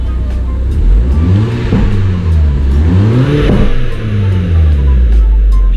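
A tuned Audi S3 8P with a crackle map on its lowest setting, engine revving up and down twice in close, loud blips with sputtering exhaust between, heard steadily and without speech.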